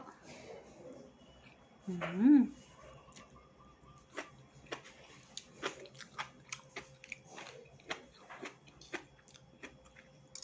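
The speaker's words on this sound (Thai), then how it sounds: "ได้ยินเสียงเคี้ยวไหม" Close, crisp biting and chewing of a healthy homemade dish, a loud bite followed by a steady run of small crunchy chews, with quiet background hum.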